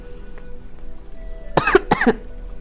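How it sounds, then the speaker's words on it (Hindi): Two sharp coughs close together near the end, following a quiet moment with faint background noise. "अचानक से खांसी आ गया मुझे"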